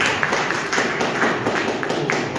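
An audience at a book presentation in Arequipa clapping with whole hands, producing a steady, moderately loud patter of many overlapping claps that continues throughout.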